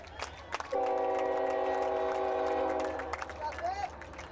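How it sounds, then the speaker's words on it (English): A train horn sounds a long, steady multi-tone blast as a train passes a high school baseball field, with a commentator talking over it and crowd noise around it. "There's an unusual sight here at the ballpark, seeing the train go through."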